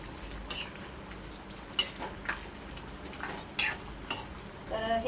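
A spoon stirs potato and ivy gourd curry with dried shrimp in a pan, giving several irregular metallic scrapes and clanks over a low, faint simmering background.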